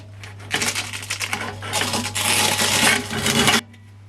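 Velcro sanding disc peeled off a Ferrex belt and disc sander, a scratchy ripping tear of about three seconds, close and fairly loud over a steady low hum.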